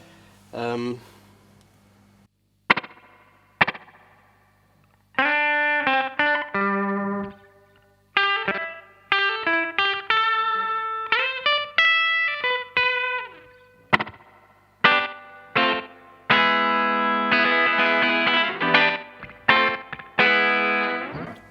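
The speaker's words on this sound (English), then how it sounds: "So that's real sort of slapback, and so this will be the fastest the pedal can echo." An electric guitar played through a Danelectro Dan Echo delay pedal set to its fastest, slapback echo, with mid repeats and the high cut centred: distorted chords and single notes ring out in bursts, each closely doubled by a quick repeat.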